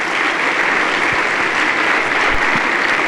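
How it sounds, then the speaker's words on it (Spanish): Sustained loud applause from a church congregation during a Sunday sermon, a thick continuous roar of many hands clapping at once, close and even throughout, with a few sharper claps standing out. "Dale un aplauso al Rey, por favor."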